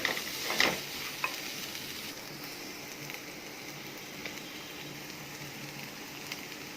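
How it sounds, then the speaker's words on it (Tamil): Vegetables sauté in a pan with ginger garlic paste and salt while egg noodles are being made: a soft, steady sizzle with a few stirring scrapes near the start, close but fairly quiet and with no talking. "இப்போ இதுவும் நல்லா வதங்கணும்"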